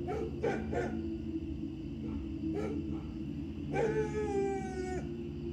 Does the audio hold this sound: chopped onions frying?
no